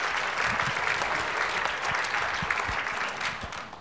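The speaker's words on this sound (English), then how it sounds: "Round of applause." Audience applause at the close of a medical lecture, a dense, steady clapping from a sizeable crowd that runs throughout and eases slightly toward the end.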